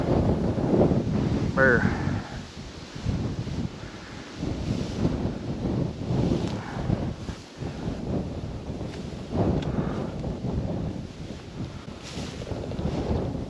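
Strong wind buffets the microphone outdoors in an Iowa field during a pheasant hunt, a steady loud roar with gusts throughout and a brief spoken exclamation near the start.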